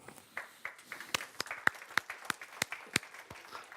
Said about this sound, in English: That's nice to get an applause before even one starts talking.